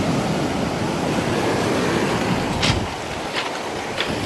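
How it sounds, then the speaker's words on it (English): Big ocean surf, around eight-foot waves, roars in a continuous broadband wash on a beach stripped away by gale-force winds, with a few sharper splashes near the end; loud and close, no voices. "These are only like 8-foot waves."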